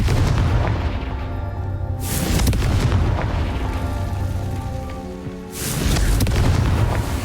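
A Confringo spell explodes in Hogwarts Legacy with two loud fiery booms several seconds apart, each followed by a long rumbling roar and crackling debris, with a tonal music-like drone underneath.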